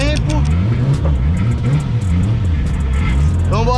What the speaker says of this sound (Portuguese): Estamos tirando o carro da oficina depois de mó tempo.